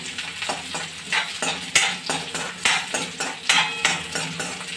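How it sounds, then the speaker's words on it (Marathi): Chopped onion sizzles steadily in hot oil in a pan for Maggi noodles, with a spatula scraping and stirring in a rough repeating rhythm, close and fairly loud, no voices. "कांदा टाकून घेऊया. याला फ्राय करून घ्या."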